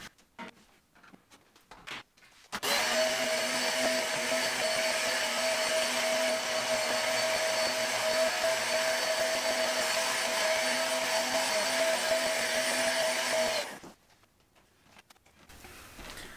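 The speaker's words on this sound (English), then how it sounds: "I am now going to empty this container and we're going to vacuum again" A vacuum cleaner collecting dust runs loud and steady for about eleven seconds with a constant motor whine, starting abruptly and cutting off near the end, with quieter handling noise before and after.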